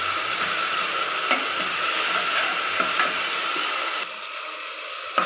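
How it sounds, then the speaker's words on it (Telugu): Ginger garlic paste frying in a pan for mutton masala curry, giving a steady loud sizzle that runs the whole time with a few faint clinks, then drops slightly near the end. No one talks. "ఇది కొంచెం పచ్చి వాసన పోయేంత వరకు మనం ఫ్రై చేసుకోవాలి"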